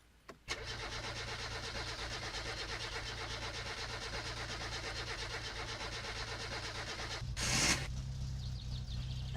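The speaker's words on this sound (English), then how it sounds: "Start the engine." In the game My Summer Car, a car engine cranks and catches, then settles into a steady, loud idle with a brief rise near the end, heard alone without voices.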